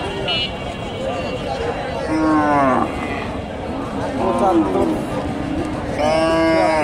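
Cows mooing loudly and repeatedly at a busy cattle market where Shahiwal cross and Friesian cows are sold, the low drawn-out calls rising over a constant hum of crowd chatter and people talking nearby.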